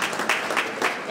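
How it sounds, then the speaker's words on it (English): Short burst of congregation applause during a funeral service, a brief steady patter of many hands clapping. "Can we show an applause, please?"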